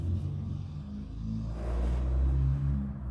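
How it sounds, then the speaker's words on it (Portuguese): Cars passing outside in the dead of night, heard from indoors as a low muffled rumble that swells toward the end as a vehicle goes by, with no other sound. "Por isso o barulho dos carros."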